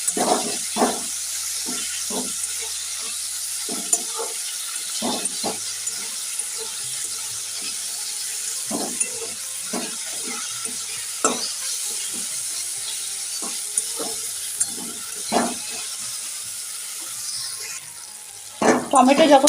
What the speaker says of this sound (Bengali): দেখো পেঁয়াজটা আমার হালকা ভাজা ভাজা হয়ে গেছে এর মধ্যে আমি কেটে রাখা টমেটোগুলো দিয়ে দিলাম